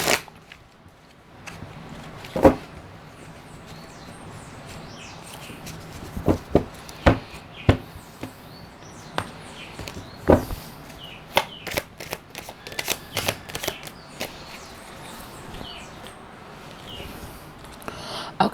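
Tarot cards being shuffled by hand, with soft riffling and sharp card snaps coming in irregular bursts, close and fairly quiet, with no talk.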